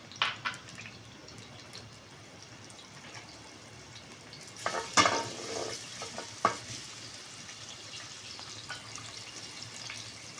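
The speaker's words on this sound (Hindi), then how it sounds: "तेल डालने के बाद हम इसमें चॉप किया हुआ लहसुन और बारीक कटा हुआ अदरक डालेंगे" Garlic and ginger sizzle quietly in hot oil while being stirred, with a few louder scraping clatters midway.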